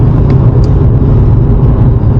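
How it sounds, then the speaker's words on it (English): Audi RS2 Avant driven on a track, a steady, loud interior drone of road and engine noise with faint, brief turbo flutter chirps; no talking. "You can hear the turbo flutter, but that's about it."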